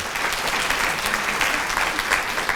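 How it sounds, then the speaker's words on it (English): An audience applauds at a Torah lecture event, a dense, continuous wash of clapping hands that stays steady and fairly loud throughout, with no distinct voices. "Now you could give a round of applause."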